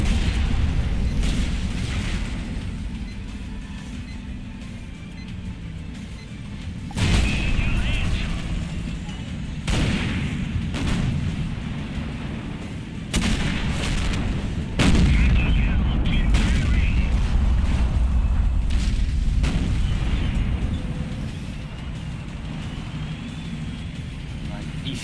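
World of Tanks E50 medium tank battle: several heavy booming cannon shots ring out at irregular intervals over a steady engine rumble, with no voices.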